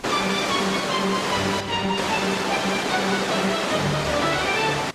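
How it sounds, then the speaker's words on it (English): Waterfall water pounding against layered rock, a dense continuous roar and hiss that stays loud and close throughout, alone with no voices. "This waterfall was formed by erosion."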